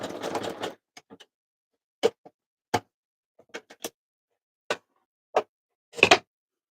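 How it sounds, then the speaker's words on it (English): Short bursts of mechanical stitching start and stop in a choppy rhythm, separated by silence, close by and fairly quiet. "Got my sewing machine here, using a zigzag stitch."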